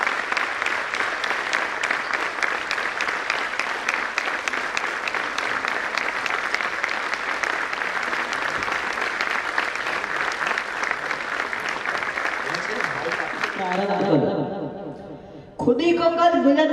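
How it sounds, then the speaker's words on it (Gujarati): An audience claps loudly and steadily on stage cue at a Gujarati motivational talk, sustained applause that thins and fades out, then a voice comes in at the very end. "એકવાર જોરદાર તાળીઓ સાથે."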